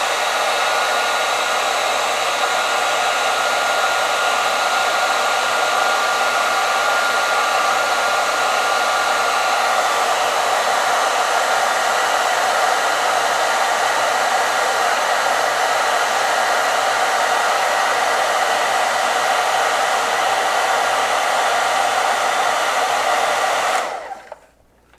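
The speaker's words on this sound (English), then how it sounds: "I'm gonna turn my heat gun on high." A heat gun set to high blows a loud, steady roar close by while shrinking heat-shrink tubing during a motorcycle mo.unit wiring install. It runs unbroken for about 24 seconds before cutting off abruptly.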